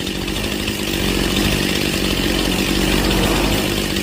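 A Stihl chainsaw engine screams at high revs during a carburetor tune-up, a loud, steady, close-up whine with no talking over it.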